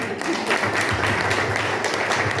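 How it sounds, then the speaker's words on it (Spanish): Church congregation at a pastor's ordination giving brief, moderate applause, a soft continuous patter of clapping in a reverberant room. "pero démosle un aplauso."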